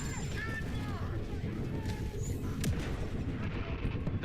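A shotgun fires in a Star Wars video game, its short blast cutting through dense, noisy battle action with no voices.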